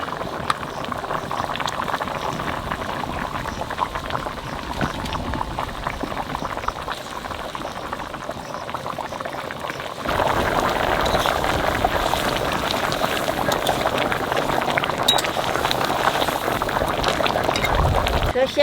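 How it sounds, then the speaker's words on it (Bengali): Hilsa fish pieces simmer with mustard paste gravy in a pot, giving a steady bubbling and boiling hiss that grows fuller and louder about halfway through. "মাছ দিয়ে 3-4 মিনিট জাল দিছি"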